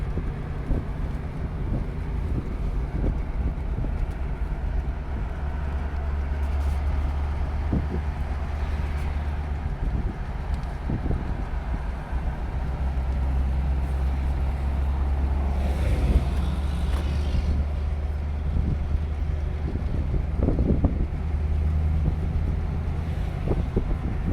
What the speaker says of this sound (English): The sound is picking up the rumble of the car, because really it sounds beautiful.